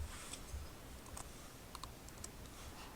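Soft keystrokes on a computer keyboard tap out in a few quiet, scattered clicks over a low, steady background hiss.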